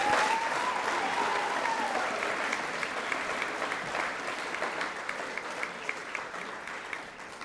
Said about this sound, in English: Another round of applause, thanks.